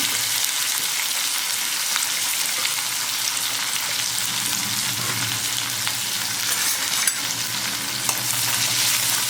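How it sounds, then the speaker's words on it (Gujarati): Fenugreek leaves sautéing in oil with turmeric over medium heat for a Gujarati methi bhaji dish, a steady close sizzle and crackle of frying with occasional stirring scrapes, continuous throughout with no talk. "તેલમાં જ આપણે મેથીને સાંતળવા દેવાની"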